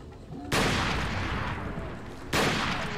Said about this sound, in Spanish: Hay uno disparando por ahí.